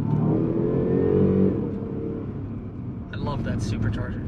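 Supercharged V8 of a Range Rover Sport L494 revving up and settling, a loud low engine roar over the first second and a half, then easing off, with brief higher mechanical sounds near the end.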